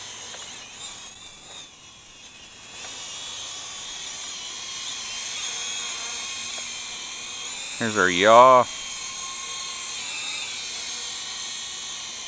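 A WLToys Q323B remote control helicopter flies nearby with a steady, fairly quiet motor whine, briefly rising in a short burst of pitch changes partway through while someone talks over it.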